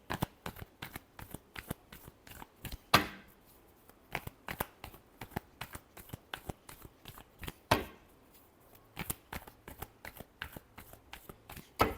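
Tarot cards being shuffled in a steady run of crisp, rapid riffling flicks, with two louder bursts where the deck is squared or snapped, close and clear with no talk.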